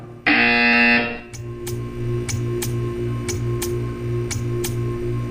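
A loud, steady buzzer from the Portal 2 video game sounds for about a second, then a faint electronic hum with a regular series of sharp ticks follows alone.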